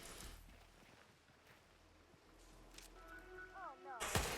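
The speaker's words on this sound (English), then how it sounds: "Once he is, you're just gonna pull out your pistol and shoot it." A single sharp pistol shot fired at an icicle in Hitman 3 at the Hokkaido snow festival, cracking out loudly near the end after a stretch of quiet game ambience and a few soft chiming tones.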